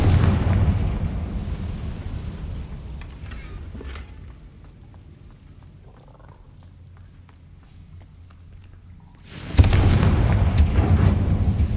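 A Confringo fire spell explodes in the Hogwarts Legacy video game. The loud blast opens the clip and rumbles off into a quieter stretch, then a second heavy burst hits and roars on to the end.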